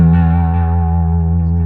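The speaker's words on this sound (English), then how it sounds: "That distortion in the background brings in a lot of harmonic content." A sustained, buzzing electric bass note through an EBS Billy Sheehan Signature Drive distortion pedal, thick with distorted harmonics, played steadily and loud for under two seconds before cutting off abruptly.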